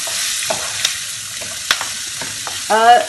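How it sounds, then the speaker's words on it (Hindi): Onions frying in a pan for a Kerala-style upma, stirred as they cook: a steady close sizzle with light scraping and tapping of the spoon, ending in a louder burst of stirring. "बस उतना ही भूनना है हमें प्याज को, उससे ज़्यादा नहीं भूनना है।"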